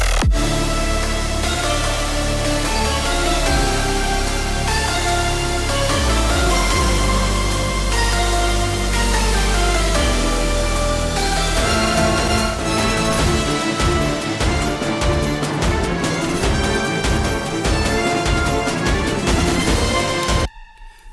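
Postdrop section of an electronic track, a loud dense wall of synths and bass that shifts into a driving, rhythmically pulsing beat before cutting off abruptly at the end.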